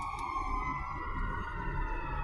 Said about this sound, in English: Oh no, it's a fire truck.